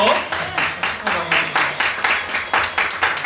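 Clapping from a church congregation at a Sunday Christmas worship service, a series of loud rhythmic bursts in a steady beat, with voices mixed in.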